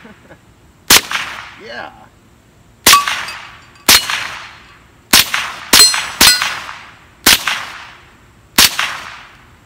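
Eight loud, sharp cracks from a Marlin Model 60 .22 LR rifle firing Winchester bulk ammunition, spaced unevenly about one to two seconds apart, each with a short ringing tail; a voice speaks briefly once.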